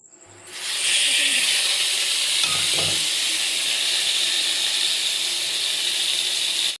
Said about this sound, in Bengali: পটলটা একটু ভেজে নিচ্ছি।